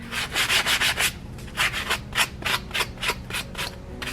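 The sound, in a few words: sanding wood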